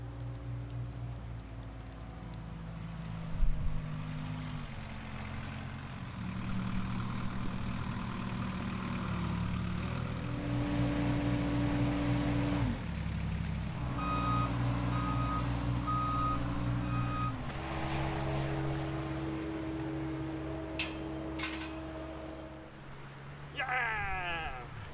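A forklift truck works at a cottage building site on the Isle of Skye, its engine rumbling and shifting pitch with repeated reversing beeps, while sheep bleat and people talk in the background.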